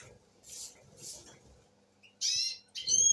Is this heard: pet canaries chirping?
yes